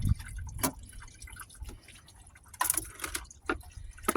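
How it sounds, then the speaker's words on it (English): Engine coolant draining from a released heater line on a Buick down into a catch tank, heard as scattered drips and small splashes in quiet, uneven bursts. "Heater line number 1 is released. Now we're draining down into our tank down there."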